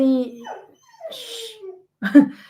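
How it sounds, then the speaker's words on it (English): Dog whimpering and yipping indoors during an online talk session, several high, wavering whines and squeaks close to the microphone, with short pauses between them. "sorry, my dog"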